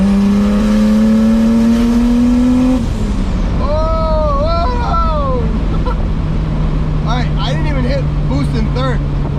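A turbocharged BMW E30 with an M20B25 engine pulls hard at full throttle, its loud engine note climbing steadily before a sudden drop and whine changes, with people talking over it.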